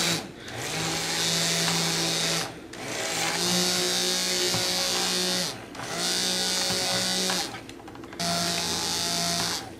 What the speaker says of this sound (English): And then I am going to blend until just past emulsification.